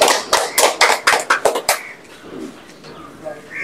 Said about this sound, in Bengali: আচ্ছা, সবাই হাতে তালি দেন একটু।